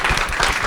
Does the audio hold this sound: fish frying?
no